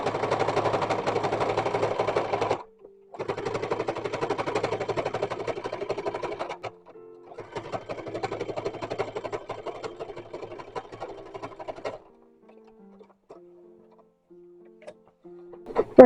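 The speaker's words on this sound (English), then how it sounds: "We're stitching it on machine." A sewing machine stitches the seam of an 1850s–1880s style infant petticoat in close, loud bursts of rapid mechanical chatter, separated by short pauses, with slower isolated ticks near the end.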